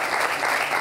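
An audience briefly applauds digital emergency volunteers, a short, dense burst of crowd clapping at steady volume.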